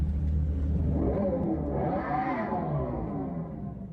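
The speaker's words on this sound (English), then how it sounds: "first look at new electric Dodge Charger with fake exhaust noise" Synthetic exhaust sound from a new electric Dodge Charger, a steady rumbling engine-like drone that swells and revs briefly mid-way before easing off, heard close and alone.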